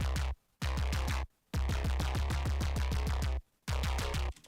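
A synth pattern with resonant filter peaks shaped to mimic vowel sounds pulses in quick rhythmic bursts, broken by short silent gaps, loud and upfront with no speech.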